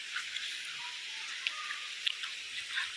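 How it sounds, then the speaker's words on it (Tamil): Rain falls outside a balcony as a soft, steady hiss, with occasional faint drips and taps landing nearby and no talk. "பார்த்தீங்களா, கொஞ்சிட்டே இருக்கு மழை."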